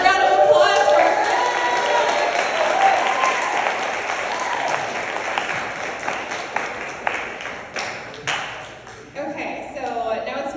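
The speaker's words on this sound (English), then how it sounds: "Another round of applause for our" Sustained audience applause at a conference's closing session, a dense roar of many hands lasting several seconds before thinning into scattered claps as a voice begins speaking.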